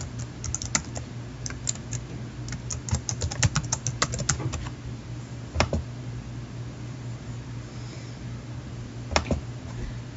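Typing on a computer keyboard to enter a login username: quick bursts of clicking keystrokes over a steady low hum, then a couple of isolated key presses after a pause.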